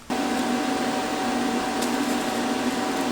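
Welding a Toyota Supra fuel pump hanger makes a continuous close buzzing hiss that starts abruptly and holds steady for about three seconds.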